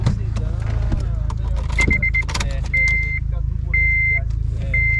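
A Honda Civic Si idles steadily at close range with a low engine rumble, while repeated electronic chime beeps sound from the cabin and voices murmur nearby.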